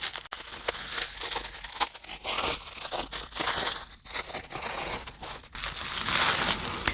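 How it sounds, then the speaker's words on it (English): Bubble wrap and tape being pulled off a package holding a 1:64 scale diecast Camaro model, giving a steady close crinkling and crackling with sharp tearing bursts, alone without talk. "Definitely a lot of bubble wrap."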